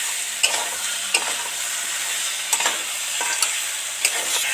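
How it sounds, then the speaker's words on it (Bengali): Crab pieces fry in a pan with spice paste for a red crab curry, a steady close sizzle broken by about five sharp scraping stir strokes at regular intervals. "কাঁকড়াটা দিয়ে মশলার সাথে ভালো করে নেড়ে ছেড়ে একদম ভেজে নিলাম"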